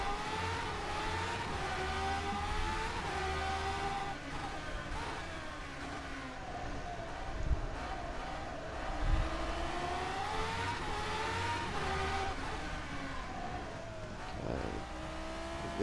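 A racing car's engine in a racing video game accelerates hard, its pitch climbing and falling through gear changes as a steady, loud roar with no voices.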